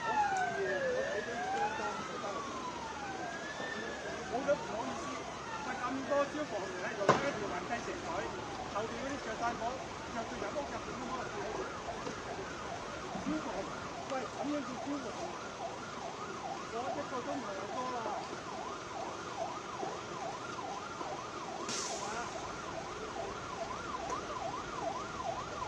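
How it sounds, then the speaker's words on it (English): Wailing fire engine sirens sweep up and down in Hong Kong during major multi-high-rise fires, several overlapping sirens sounding steadily throughout against busy city background noise. "Now I can hear the fire engines."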